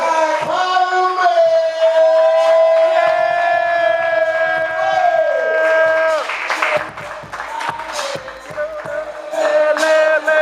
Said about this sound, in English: y'all make sure y'all start clapping right now